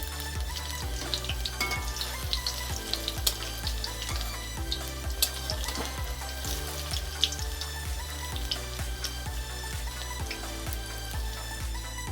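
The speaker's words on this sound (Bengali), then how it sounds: "দেখো আমাদের বন্ধু বড়া ভাজা হয়ে গেল" Fish-oil fritters sizzle in hot oil in a pan, browned and turned on both sides, with a steady dense crackle and hiss that runs close and unbroken, and no voices.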